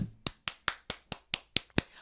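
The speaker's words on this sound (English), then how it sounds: "Let's clap for that." Eight sharp, evenly spaced claps from a single pair of hands on a morning talk show, close and dry with clear gaps between them.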